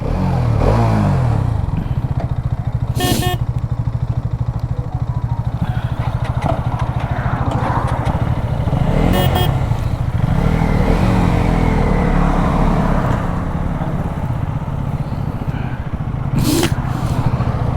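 Two 250cc street motorcycles, a KTM Duke 250 and a 2025 Hero Xtreme 250R, run steadily with a continuous engine drone and a few brief rev spikes, loud and close throughout with no talk.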